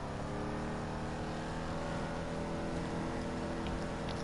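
Vapid Dominator GTX muscle car engine in Grand Theft Auto 5, a steady, dense drone held at constant revs throughout without breaks, fairly quiet in level and with no talk over it.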